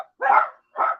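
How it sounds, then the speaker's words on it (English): Two loud bursts of barking from household dogs, a short bark followed by another after a brief pause, close by and with no talk over them. "oh, and the dogs are going off."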